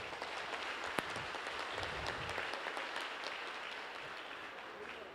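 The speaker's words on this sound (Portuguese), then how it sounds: "Dá um aplauso a Ele." Church congregation applauding in worship, a continuous wash of clapping heard somewhat distant and soft, steady throughout with faint voices underneath.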